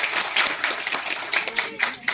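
Children clap together for a few seconds in a science museum after a balloon demonstration, a fairly close, fluttering burst of small hands with some voices mixed in.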